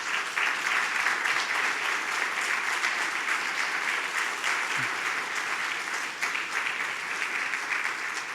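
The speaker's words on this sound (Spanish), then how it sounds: "Dale un fuerte aplauso al Señor." A church congregation gives strong, continuous applause to the Lord during Spanish-language worship, a thick steady wash of clapping across the whole stretch with faint voices blended in.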